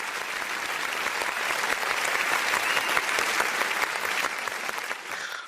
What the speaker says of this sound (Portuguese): Bota aí uma salva de palmas pra gente, Bruno.